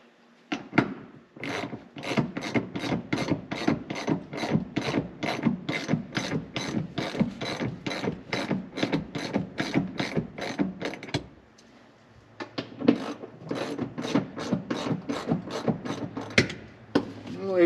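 Socket wrench ratcheting on seat bolts during interior work on a 1966 Oldsmobile 442, a long run of close, rapid, even clicks, a brief pause, then another burst of clicking.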